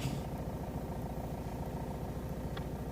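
A car engine idles low and steady as the clutch is slowly let out to pull away, a close, even rumble with a regular pulsing throb and a faint brief tick, no talking.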